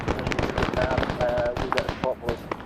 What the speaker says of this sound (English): And now the mortar's shooting down and it's landing by.